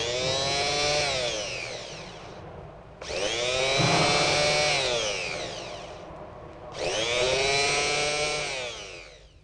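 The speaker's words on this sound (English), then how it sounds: "The pinion or cog is not engaging with the teeth on the flywheel." A car starter whose pinion fails to engage the flywheel teeth, heard as three loud whirring spin-ups of two to three seconds each, the pitch rising and then falling, separated by brief gaps.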